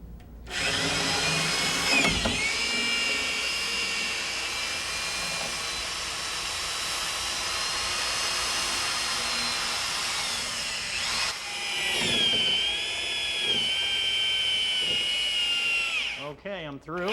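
Power drill boring up through a sheetrock wall: a long, loud, steady whine lasting over ten seconds, briefly dipping, then resuming at a slightly higher pitch, with faint speech in between and a short pause near the end.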